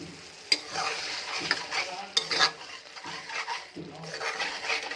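Masala fries in oil for an Odia-style prawn curry, a steady sizzle with a spoon scraping and stirring against the pan and occasional sharp clinks of metal.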